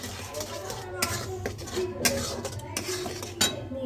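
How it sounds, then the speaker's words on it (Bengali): A spoon stirs sugar into a Bengali mustard and tamarind fish curry in a pan, with metallic clinks and scrapes against the pan, close and intermittent, while someone talks. "এবার একটু আমি নেড়ে নেবো"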